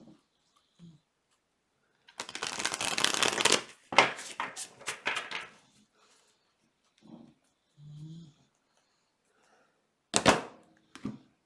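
A tarot deck is shuffled close up in a long, loud riffling burst and then several shorter ones, with a brief soft voice in the pauses and a final sharp shuffle near the end.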